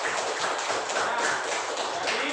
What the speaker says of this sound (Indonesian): Kita beri tepuk tangan untuk semua kelompok